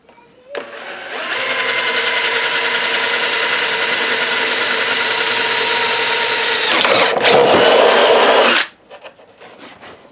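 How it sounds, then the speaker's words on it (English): Power drill boring holes near the bottom of plastic caps for an aquaponics tower: one loud, continuous whine lasting about eight seconds that roughens near the end as the bit breaks through, then stops abruptly. "we want to drill these holes as close to the bottom down here as we can get them"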